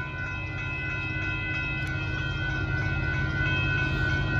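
A Union Pacific freight train hauling gravel rumbles steadily with a low drone and sustained tonal whine, faint and constant as it draws nearer.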